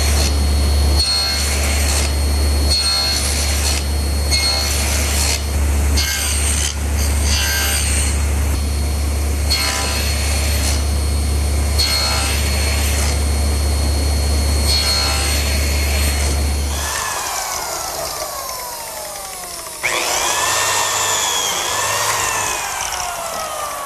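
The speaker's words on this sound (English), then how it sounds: "I've just finished cutting some slots in both side pieces for these compressed beechwood biscuits." A power tool cuts biscuit slots in wooden side pieces. A loud, steady whining roar runs for about seventeen seconds, then shifts to a thinner, wavering whine.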